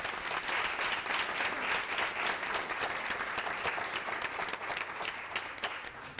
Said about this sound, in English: If you all could give them a round of applause.